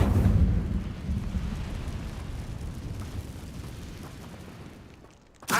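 A fire spell cast in Hogwarts Legacy, a loud rumbling burst of flame that roars at the start and slowly fades, followed by a short sharp hit at the end.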